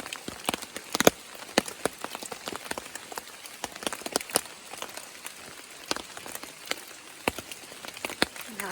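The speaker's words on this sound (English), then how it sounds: "Now I gotta hike 2 miles out of here in the rain." Rain falls steadily on a forest trail on a cold, wet morning, with scattered sharp drops tapping close by over a soft continuous patter, no voices.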